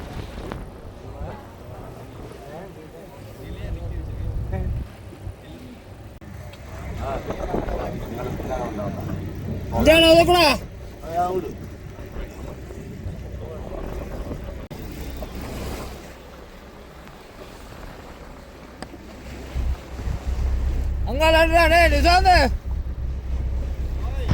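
A boat out on the sea at night near Kachchatheevu, rough waves turning it off course: a steady engine and wind rumble with water wash and surges, plus a few louder bursts and voices heard now and then.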